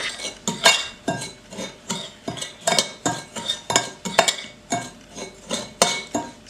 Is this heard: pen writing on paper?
no